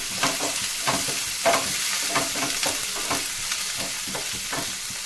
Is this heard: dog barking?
no